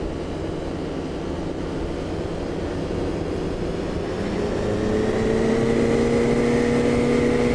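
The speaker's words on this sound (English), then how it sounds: "At about 30 miles per hour, gently pull the stick towards you, and the aircraft will fly off the runway" A light aircraft engine in Flight Simulator X drones steadily at takeoff, its pitch climbing near the end as the plane lifts off the runway.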